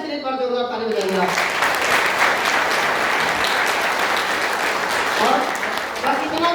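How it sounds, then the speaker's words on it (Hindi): Sustained loud applause from a seminar audience at an RCM business event in Greater Noida, dense steady clapping filling the room throughout, with a brief voice at the start. "और सभी अप्लायंस के लिए पर जोरदार ताली बजाएंगे"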